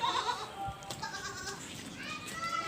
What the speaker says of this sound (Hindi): इसके अलावा मेरे पास एक और है कामूरी बकरी।